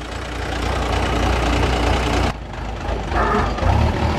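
An ACE 20-ton crane's diesel engine runs loud and close, holding a steady idle before briefly dipping and then rising again as it revs, with no voices over it.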